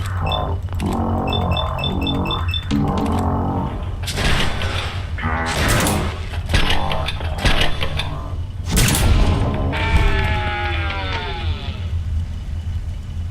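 A turret fires in the video game Fallout London, sounding as bursts of mechanical clatter and thuds amid game noise and a low rumbling bed, with bright whirring and metallic accents scattered through.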